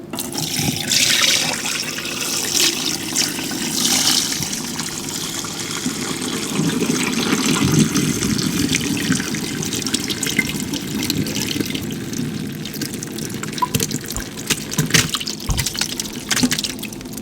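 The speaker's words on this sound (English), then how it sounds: "we're gonna now take this pot and go over and strain all of the whey out" Whey pours from a pot of curds through a strainer, giving a long, continuous splashing and trickling of liquid that runs close and steady, with occasional clinks.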